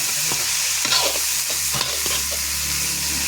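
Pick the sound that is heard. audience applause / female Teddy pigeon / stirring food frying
stirring food frying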